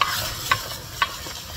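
An egg fries in a freshly seasoned pan outdoors in the wind, a soft steady sizzle broken by a few sharp clicks of a utensil against the pan.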